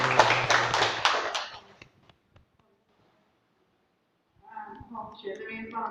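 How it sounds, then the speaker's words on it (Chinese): Rhythmic clapping from a gathering at a Buddhist temple hall during a class, a quick series of claps fading out over a couple of seconds, followed by silence and then a voice speaking. "我们再次热烈掌声感谢理任"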